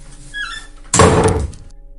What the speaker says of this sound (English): I was jolted awake by the sound of a door slamming